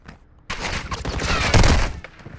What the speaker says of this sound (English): Yeah, they are shooting through walls right now.